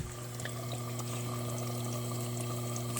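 A home dishwasher fills with water, giving a steady, moderate rushing flow over a low mechanical hum that holds constant for the whole few seconds.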